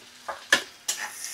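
Prawns frying in a pan with a few raisins, stirred with a spatula: three distinct scraping strokes over a soft, steady sizzle, close and fairly quiet, no voices.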